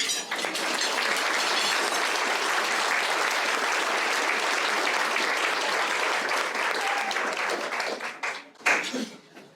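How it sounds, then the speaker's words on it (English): A large audience at an award dinner claps loudly and steadily, with dense sustained applause that fades out near the end and a few voices emerging. "Everyone needs to give a huge round of applause because it is her 21st birthday tonight."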